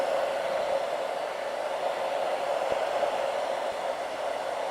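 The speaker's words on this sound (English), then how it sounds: "So we're just gonna use the blow dryer and blow dry it until it turns clear." A blow dryer runs continuously at close range, a steady, loud airy roar drying adhesive along a hairline, with no pauses or change in speed.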